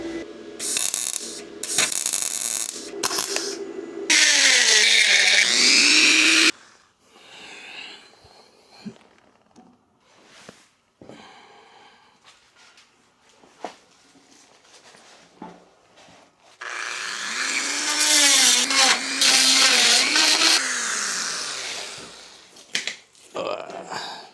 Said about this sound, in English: I can grind it out and then do a couple of tack welds before I finish grinding it out